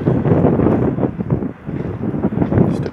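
Strong gusty wind buffeting a microphone outdoors at a desert campsite near Quartzsite, Arizona, a loud continuous rumbling roar with rising and falling gusts and a short lull midway.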